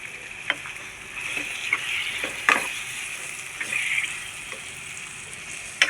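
Mutton gravy sizzles and bubbles in a pan as it cooks, a steady close crackle with a few louder pops and splutters and no talking.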